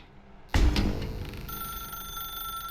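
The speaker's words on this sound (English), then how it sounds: "Now pick up the phone." Telephone ringing in The Stanley Parable video game, inside a dark room: a sudden loud onset followed by a sustained bright, electronic-sounding ring tone that holds steady while slowly fading, with no voices.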